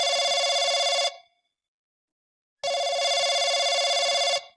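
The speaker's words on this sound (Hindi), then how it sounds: "कहा घंटी बाज रही" An old-fashioned telephone bell rings in two loud, sustained bursts separated by a silent pause, close and clear with no voices.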